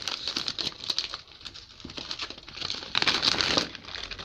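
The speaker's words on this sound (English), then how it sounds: "take some Oreos, put them in a Ziploc bag like this." Oreo cookies going into a plastic Ziploc bag make close, continuous crinkling and rustling of the plastic, with soft bumps and taps throughout and no talk.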